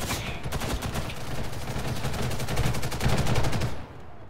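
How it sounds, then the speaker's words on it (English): Rapid sustained automatic gunfire in the shooter game Ghost in the Shell: First Assault, a loud, close, fast rattling burst lasting several seconds before cutting off abruptly. "Oh my god, everyone just shooting over you."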